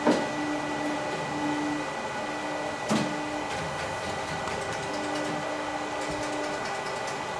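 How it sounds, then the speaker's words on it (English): A Ricoh Ri2000 printer running a nozzle check, with whirring motor tones that start and stop in short repeated runs, a couple of mechanical clunks, and a steady background hum. "I'm going to go ahead and run a nozzle check"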